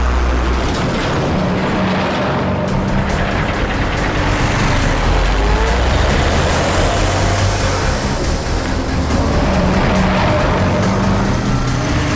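A car drives loudly and steadily in a dramatic scene, a dense roaring engine and road noise that lasts throughout with no clear break.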